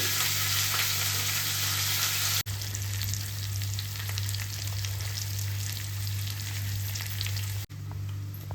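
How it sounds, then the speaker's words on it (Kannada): Chopped onion frying in oil for a paneer capsicum gravy, a steady dense sizzle with constant low hum throughout, close and fairly loud, briefly interrupted twice by short dips. "ಇದು 1 ಈರುಳ್ಳಿನ ಚಿಕ್ಕದಾಗಿ ನಾನು ಚಾಪ್ ಮಾಡ್ಕೊಂಡಿದ್ದೀನಿ. ಈರುಳ್ಳಿ ಒಳ್ಳೆ ಫ್ರೈ ಆಗಲಿ."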